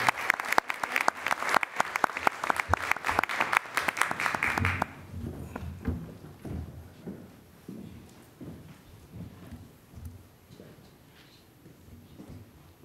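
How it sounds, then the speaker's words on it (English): A school board meeting audience gives young people a round of applause, with sharp, dense clapping that stops abruptly partway through, leaving room murmur and faint voices. "Let's give all of these young people another round of applause."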